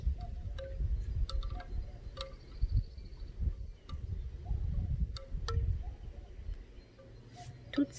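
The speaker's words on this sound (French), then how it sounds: "Merci vent qui nous amène cette musique." Low, gusty wind rumbling across the microphone, with scattered faint bird chirps and clicks above it.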